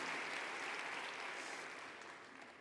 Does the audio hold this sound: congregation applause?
yes